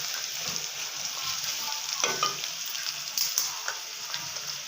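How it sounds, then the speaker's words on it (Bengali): Onions frying in oil in a pan while a meat curry is prepared, a steady dense sizzle with a few scraping stirs near the middle and again later, close and continuous with no talking. "পেঁয়াজটা হালকা করে ভেজে নেব।"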